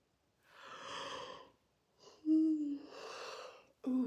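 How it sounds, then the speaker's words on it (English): A person yawns twice with long, breathy exhales, the second ending in a short voiced sound, close and clear with quiet pauses between. "Yawns are so good."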